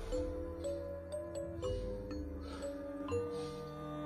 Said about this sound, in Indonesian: Bunyi suara bel menandakan di dalam rumah ada penghuninya.